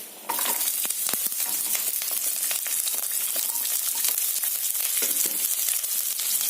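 Small onions cut into pieces hit hot oil in a pan, setting off a sudden loud sizzle that continues steadily with crackling and spatter, close up and with no talk.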